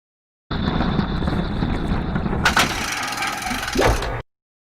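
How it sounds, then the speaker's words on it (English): A door in a game challenge entry with a mechanical action grinds and clatters steadily, then a sharper burst of ratcheting, gear-like whirring and a final clunk, close and fairly loud with no voices. "A nice mechanical sound to that door."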